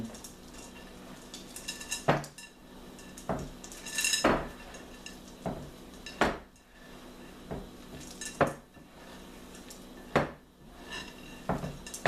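Chocolate chips being stirred into cookie dough in a bowl: a series of sharp, spaced utensil clinks and scrapes against the bowl at irregular intervals, fairly quiet and close, with no talking.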